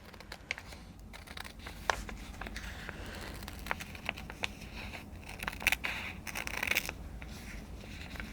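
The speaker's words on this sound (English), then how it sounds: "it's definitely easier with a sharper scissors." Scissors snip through fabric and a paper sewing pattern in quiet, scattered cuts with soft rustling and crinkling, close by and fairly faint.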